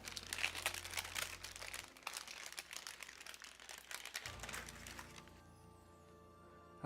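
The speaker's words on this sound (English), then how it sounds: "And then the parchment paper will just peel right off of it." Parchment paper peeled off a slab of set peanut butter fudge, a continuous close crinkling and crackling rustle that fades out near the end.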